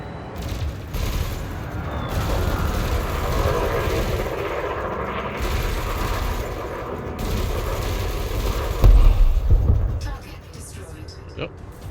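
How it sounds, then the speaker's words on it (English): Multi-cannon fire from a spacecraft in the video game Elite Dangerous: Odyssey, a dense, sustained rattling barrage with rumbling low end that runs nearly continuously and swells briefly toward the end. "You may have noticed that multi-cannons are effective against unshielded targets."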